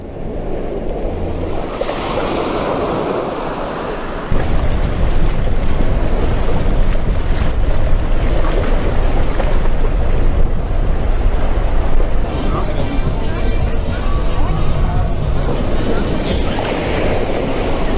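Surf breaking steadily on the beach at Le Gosier, Guadeloupe, a continuous loud wash of waves with wind buffeting the microphone, growing fuller after the first few seconds.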